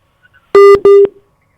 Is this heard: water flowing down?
no